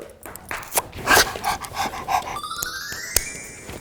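A small dog close by makes short whimpering and panting sounds, with a few yips and soft vocalizations in quick succession.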